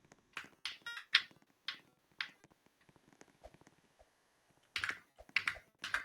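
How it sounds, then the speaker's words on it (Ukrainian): Quiet, close-up computer keyboard typing in short clusters of clicks, pausing briefly before another quick burst of keystrokes. "Якщо ви чуєте мою клаву, то сорян."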